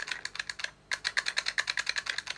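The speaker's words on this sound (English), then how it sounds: "It's got like a little mechanical keyboard switch in there." Mechanical keyboard switch inside a ring-pull fidget toy clicking in a rapid, steady series of crisp, close clicks, about a dozen in a row after a brief pause.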